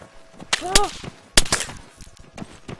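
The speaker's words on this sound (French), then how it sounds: "C'est où que ça tire là?" Sharp gunshot bursts from a first-person shooter video game crack out in two clusters, followed by fainter scattered shots, while players talk over the action.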